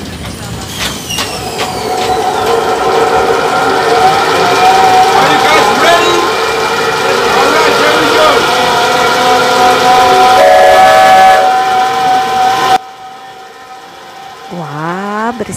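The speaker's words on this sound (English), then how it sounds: "I will put the steam engine on louder and we can start." A loud, steady mechanical din of a steam engine and wooden-clog-making machinery in a factory fills the space with whistling tones, then drops away sharply, leaving a quieter hum and a rising squeal.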